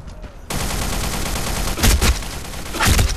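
Rapid bursts of automatic gunfire from the online shooter BlackSquad, starting abruptly and running steadily, with two louder, closer volleys near the middle and end.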